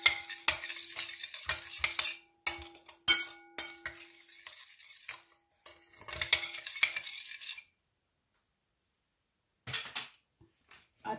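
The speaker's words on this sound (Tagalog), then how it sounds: "haluin lang po natin guys para ma-mix" Spoons stir a small bowl of broccoli salad, producing repeated clinks and scraping against the dish in uneven bursts, with a brief pause before a few final taps.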